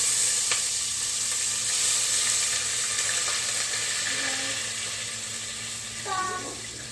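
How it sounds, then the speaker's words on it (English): Low-sodium chicken broth hits hot bacon grease in a pot for cauliflower soup, giving a steady broad sizzle and hiss that continues throughout, with small clinks and a brief splash near the end. "We're going to pour in some chicken broth."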